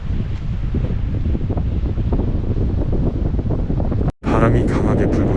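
Strong wind gusting across a mountain ridge on Sobaeksan during a spring azalea hike, a steady loud roaring buffet over the microphone throughout, briefly cutting out near the end before resuming with a brighter rush.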